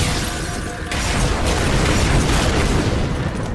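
Continuous booming blasts from a concussion rifle in the Halo 4 campaign, loud and close, blending into a dense, roaring wash of explosions with no clear gaps between them.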